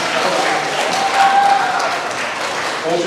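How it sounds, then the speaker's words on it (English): Audience clapping fills a school Veterans Day assembly at an elementary school, a dense, even round of applause from a gym full of listeners. "Hold your applause, please, everybody."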